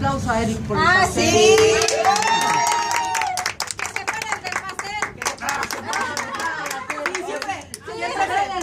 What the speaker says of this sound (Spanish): Hay que darle un aplauso a Eric por el pastel